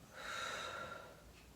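Steady breathy exhale through the mouth during a relaxing stretch class, a soft airy rush lasting about a second and fading, quiet and close with no talking.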